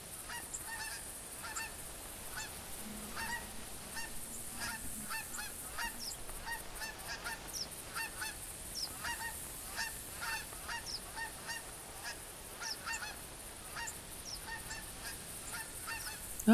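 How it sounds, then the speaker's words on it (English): Geese honking repeatedly as they fly over an outdoor hunting ground, a scattered run of distant calls overlapping through a steady background of ambient noise. "Or maybe it was just the geese flying over I heard, like the flapping."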